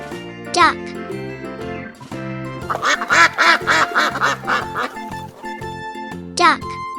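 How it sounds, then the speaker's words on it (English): A domestic farm duck quacks in a rapid run of loud, close calls in the middle, framed by brief spoken voices and light jingling music. "Duck."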